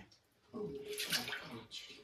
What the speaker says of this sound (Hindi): इसमें डाल दे थोड़ा सा पानी, मतलब पूरा भर लेते इसको इसमें ना